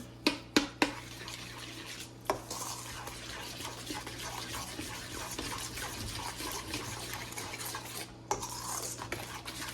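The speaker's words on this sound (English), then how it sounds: "And then we're going to add the tablespoon of dill seed. Give that a stir." A spoon stirs dill seed into bread dough mixture in a bowl, starting with a few sharp utensil taps against the rim, then a steady close scraping and swishing, with another pair of clinks near the end and no talking.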